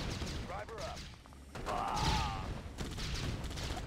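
Gunfire and battle noise from the real-time strategy game Red Alert 2, bursts of shots and crashes running steadily beneath someone speaking Thai over the action.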